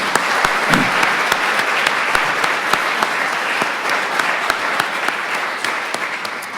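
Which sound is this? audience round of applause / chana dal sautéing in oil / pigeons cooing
audience round of applause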